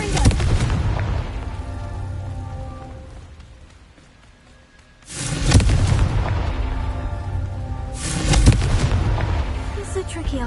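Loud booming blasts of the Confringo explosive spell in the game Hogwarts Legacy, two separate bursts with rumbling tails, layered over game sound and a voice.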